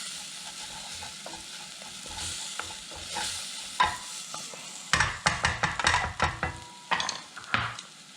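Curry spices with lal mirch frying gently on low heat, a soft steady sizzle followed by a run of close scraping stirs against the pan.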